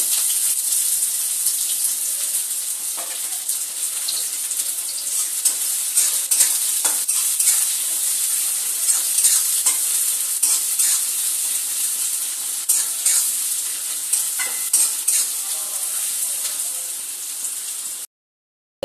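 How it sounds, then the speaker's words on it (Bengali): Finely sliced onions, two medium ones, fry in oil in a pan with a steady, close, bright sizzle and occasional stirring scrapes, alone without talk, until the sound cuts off near the end. "পেঁয়াজটাকে কিন্তু এবার ভেজে নেব তেলের মধ্যে লাল লাল করে"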